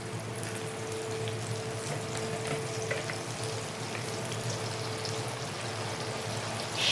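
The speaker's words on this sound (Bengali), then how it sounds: "এবার মশলাটা ভালো করে তেলের সাথে মিশিয়ে নেব।" Spices fry in hot oil for doi chingri, prawns in yogurt, producing a steady, close, dense sizzle with soft scraping as they are stirred, continuous throughout without pause.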